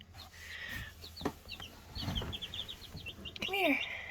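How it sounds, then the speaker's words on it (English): Chicks peeping and clucking nearby, a run of high bright cheeps in quick succession with louder peeps near the end, mixed with handling rustles and a person talking quietly. "Come here, chicks."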